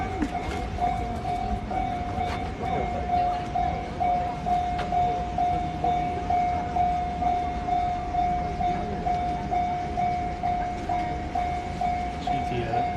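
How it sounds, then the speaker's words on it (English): A train rolls past at night in Yoyogi, Tokyo, a steady rumbling clatter with a rhythmic beat and a sustained tonal whine over street ambience, fairly close and continuous. "See the train going by in a moment."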